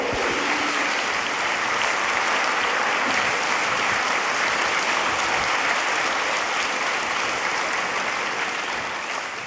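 Sustained applause from a festival audience at a crime-writing event in Harrogate, greeting J.K. Rowling, a dense steady wash of clapping that holds loud throughout and only eases slightly at the very end.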